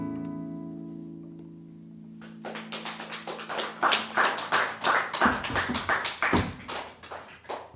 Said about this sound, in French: Les applaudissements sont sincères.